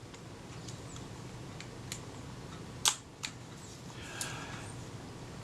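Dry mechanical clicks from working the shutter and film advance of a Retina IIIc camera in need of servicing, a few sharp snaps and ticks spread out against quiet room tone.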